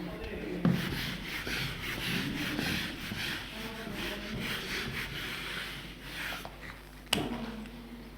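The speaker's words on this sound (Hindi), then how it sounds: "ऊपर वाली स्टेटमेंट को एक बार रब कर दूंगा।" A duster or cloth rubs writing off a board in a lecture room, a continuous scratchy scrubbing of quick back-and-forth strokes, close and moderately loud, ending with a sharp knock.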